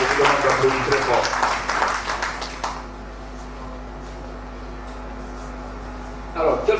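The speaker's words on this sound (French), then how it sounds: "Je demande d'applaudir très fort." Audience applause at a health caravan presentation in a village setting, a burst of clapping that fades after a few seconds into quiet room tone, with a brief rise of noise at the end.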